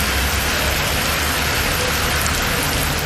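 Heavy rain pouring steadily in Vellore district, a dense, loud, continuous hiss of drops on surfaces with no break and no voices.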